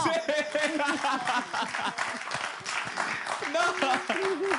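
Audience clapping at a live show, a sustained patter of applause under people talking and laughing throughout.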